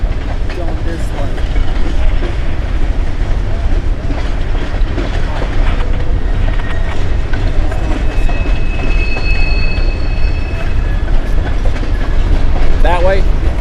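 A CSX freight train rolls past close by at Coffey's Cliff, a loud continuous rumble with clattering wheels and a few high squeals, and people talk briefly over it.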